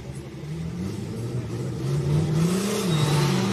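BMW E92 and BMW E46 drift cars pull away at a drift competition, a mid-pitched engine drone rising in revs and pitch, heard from a distance and steadily getting louder.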